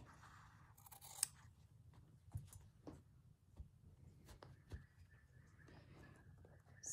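Scissors snip through a small leftover piece of fabric in a quiet room, a few soft, close clicks and cuts spaced irregularly against near silence.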